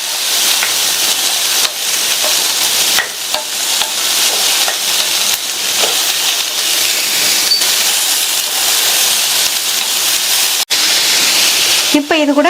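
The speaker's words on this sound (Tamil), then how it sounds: "இப்ப இந்த சௌசௌவை ஒரு நிமிஷத்துக்கு வதக்கிக்கலாம்." Chopped chayote sautés in a pan for a Tamil-style poriyal, with a loud, continuous close sizzle and frying hiss broken by brief stirring scrapes and thumps, and no clear talking.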